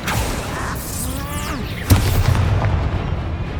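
A Confringo explosive spell blast in the game Hogwarts Legacy lands as a single sharp boom midway, following a whooshing magical swirl and trailing into a rumbling low roar.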